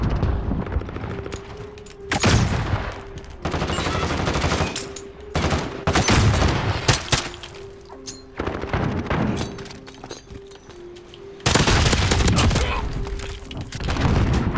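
Loud bursts of rapid automatic fire and single pistol shots ring out in a Call of Duty Modern Warfare match, with repeated volleys and short gaps between them, close and harsh throughout.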